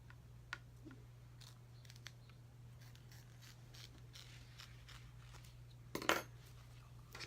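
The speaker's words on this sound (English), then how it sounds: "So I'm trimming right up against the stitch line" Scissors snip close along the stitch line, trimming embroidery applique fabric at a machine; a few faint clicks, then one sharp, brief metallic snip near the end over a steady low machine hum.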